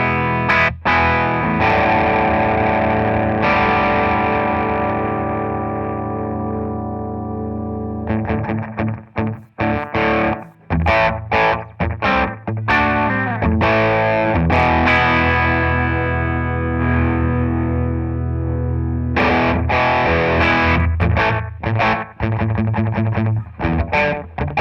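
A 1978 Ibanez Iceman electric guitar plays through straight distortion with no reverb, loud and up close, opening with ringing sustained chords, then moving into choppy staccato riffing before letting chords ring out again.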